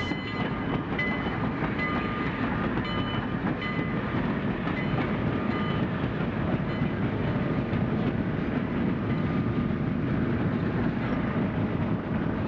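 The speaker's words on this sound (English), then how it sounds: "the length of these trains is quite impressive" A long freight train rumbles steadily past on the rails, a continuous loud roar with faint clacking and metallic squeal throughout, no voices.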